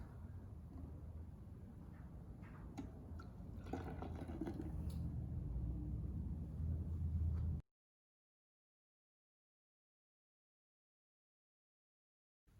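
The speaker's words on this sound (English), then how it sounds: "it's time to pour our yeast mixture into our water bottle and see what happens." Yeast mixture poured into a water bottle of hydrogen peroxide, a steady liquid pour with splashing and gurgling for several seconds, close, then abrupt silence.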